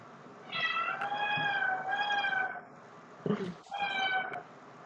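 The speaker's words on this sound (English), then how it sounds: "Hope you can't hear my cat" A pet cat meows repeatedly and insistently nearby, several drawn-out, wavering cries with a brief pause before a final meow.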